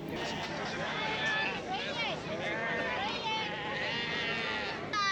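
Sheep bleat repeatedly at a junior handler show class, several wavering calls rising over a busy crowd hubbub, with voices talking throughout.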